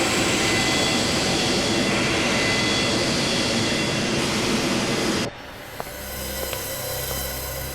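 A loud, steady roar of a jet airliner in flight, used as a TV drama sound effect, fills the first five seconds and then cuts abruptly to a quieter low cabin hum.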